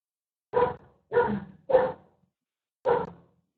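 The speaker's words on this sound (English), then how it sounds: "The dog has a question." A dog barks four times, close and loud, in short separate bursts, three in quick succession and one after a pause.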